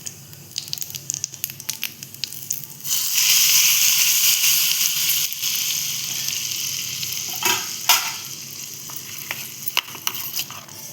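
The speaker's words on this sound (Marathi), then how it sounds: "आता आपण चटणीला फोडणी देऊया।" Loud, steady sizzling of cumin seeds hitting hot oil as tempering for a raw mango chutney, with crackles and pops, scattered clinks and scraping from stirring, close by.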